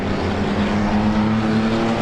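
Race cars in a six-shooter feature at Star Speedway roar continuously as several run close together, a loud sustained engine drone with a steady pitch, no talk over it.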